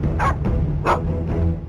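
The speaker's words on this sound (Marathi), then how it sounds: "वसई विरार परिसरामध्ये भटक्या कुत्र्यांनी खूपच उच्छाद मांडलेला आहे।" Stray dogs in a town street bark in a short, close burst of about three sharp barks with a yelping edge, heard over a low background rumble.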